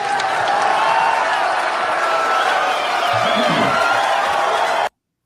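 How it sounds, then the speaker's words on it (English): A crowd of fans applauds and whistles in a radio drama effect, a dense, steady wash of clapping and cheering that holds evenly before cutting off abruptly. "The fans applaud and whistle."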